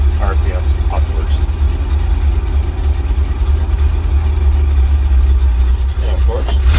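1947 Chevrolet Loadmaster 5400 COE five-window truck engine running with the power take-off engaged, a steady loud low rumble held throughout with people talking over it.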